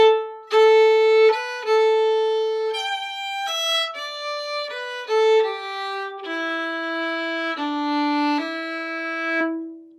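A solo fiddle plays two phrases of a Scottish strathspey, with clear bowed notes stepping through a lively melody in a dotted, lilting rhythm, close and bright with no talking.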